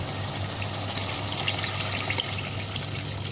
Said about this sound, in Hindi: अब हम पानी ऐड करेंगे शोरबा बनाने के लिए।